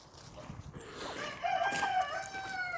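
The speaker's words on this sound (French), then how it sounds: "Donc là, c'est mes petits coqs" Young roosters crowing in a yard, one drawn-out crow rising near the middle over faint clucking and background rustle, fairly quiet and close.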